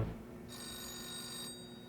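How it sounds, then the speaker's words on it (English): A telephone rings once, a short bright electronic trill that stands out from a low background hum. "then she gets a sudden phone call"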